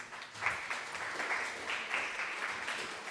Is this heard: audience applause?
yes